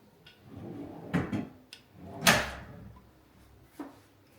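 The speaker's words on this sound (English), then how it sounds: "Let's try to test one of these drawers here" A closet drawer in a luxury home slides open and shut, giving a few soft rolling glides and muted thumps, then a louder sliding sweep and a light closing knock, close by with no talking.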